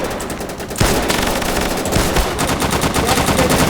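Rapid automatic gunfire erupts in a loud, close battle during a Volga River crossing in a video game, with dense bursts and overlapping shots running nearly unbroken throughout.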